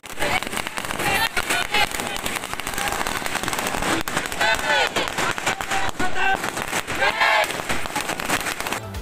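Firecrackers burst in rapid, crackling volleys at a college campus celebration in Mandi, with dense, irregular pops throughout and excited crowd voices and cheering mixed in.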